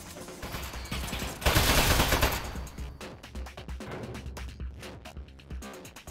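Turret gunfire in Aperture Desk Job: a loud, rapid machine-gun burst of dense repeated shots, peaking in a heavy blast early on, then continuing as quicker rattling fire with no talk over it.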